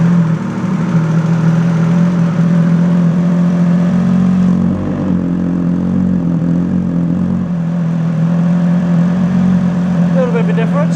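Motorcycle engine idling steadily with an electric dB killer exhaust flap closed, a constant low, rumbling drone with slight roughness, close and fairly loud throughout, with a brief voice near the end.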